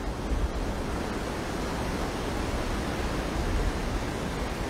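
Ocean surf washing over a reef and beach at Bathsheba, Barbados, a steady, broad roar of breaking water that holds loud and unbroken throughout with no voices.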